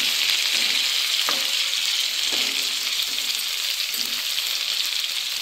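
Stuffed brinjals frying in a covered pan, a loud steady sizzle and crackle with a few soft clinks of the utensil, no talk.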